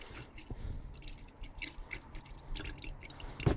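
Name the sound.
diesel dripping from fuel filter drain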